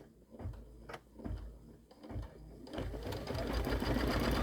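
An embroidery machine stitches a tack-down line holding background fabric in place for a Kimberbell Cup of Cheer project, its fast rhythmic needle chatter starting in short bursts and then running steadily and close.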